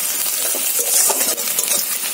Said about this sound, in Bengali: কড়াতেই আর একটু তেল দিয়ে পেঁয়াজগুলো দিয়ে একটু ভাজছি।